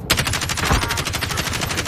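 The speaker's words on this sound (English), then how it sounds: "We still got this, boys. Good shot, Jeff." Rapid bursts of automatic gunfire fill a Plunder battle royale video game match, loud and continuous with dense repeated shots and a heavier blast near the start, and no talking.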